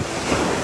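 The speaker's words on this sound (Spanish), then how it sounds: "Me encanta el, no sé, el ruido del agua" Sea waves wash and surge steadily onto a beach at Sabana, a broad continuous roar of surf mixed with wind noise on the microphone, close and fairly loud with no voices.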